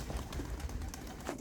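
Young backyard pigeons coo softly and steadily, faint and close, with no talk over them.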